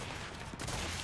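Rapid automatic fire from a Lancer rifle in Gears of War, a dense, continuous burst of gunshots that stays loud and sustained, with a slight surge partway through.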